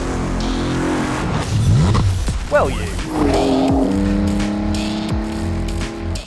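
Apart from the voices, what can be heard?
Gemballa Marsien off-road Porsche 911 driving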